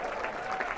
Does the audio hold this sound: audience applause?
yes